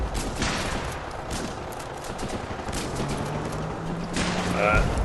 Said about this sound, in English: you have to click and hold for it to shoot